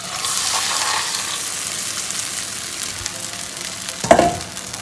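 Egg and potato mixture for a Spanish tortilla sizzles and fries steadily in a hot pan, a bright continuous crackle with a brief louder burst near the end, no talking.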